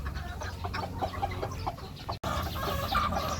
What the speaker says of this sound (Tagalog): Pero ang gandang brood stag niyan.